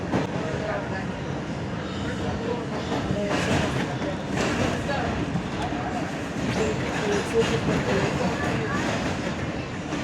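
An R142 subway car on the 2 train runs toward 148th Street–Lenox, a continuous rumbling roar with rattling and clatter throughout, heard from inside the car.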